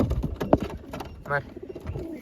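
A pigeon coos once at close range, a short throaty burble, amid scattered flutters and background noise.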